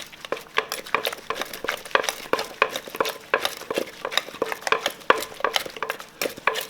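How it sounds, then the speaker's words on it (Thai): Spoon stirring a liquid sauce for a Thai cockle and fermented-fish dish makes quick, rhythmic splashing and clinking strokes, close and steady throughout, with no talking. "คนน้ำให้เข้ากันนะคะ"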